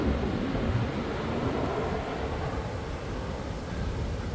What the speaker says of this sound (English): We've got these planes every 3 minutes or so.